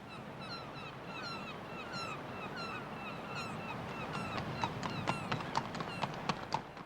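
Horse hooves clip-clop in an even, steady rhythm, growing clearer and louder, while geese or fowl honk in the background.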